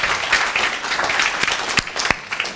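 Audience clapping at a political event in Barnet, a dense, fairly close ripple of many hands applauding continuously, with a few louder individual claps standing out near the end.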